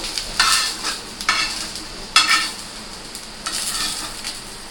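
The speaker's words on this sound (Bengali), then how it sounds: "দেখুন কত সুন্দরভাবে ভেজে নিয়েছি" Green chilies frying in oil in a pan while cooking a potol peel mash, with soft sizzling and a few brief stirring scrapes spread across the clip, close and moderately loud, no talking.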